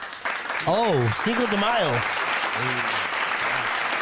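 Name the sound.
audience applause for a comedian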